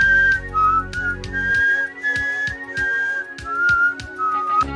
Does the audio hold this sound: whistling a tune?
yes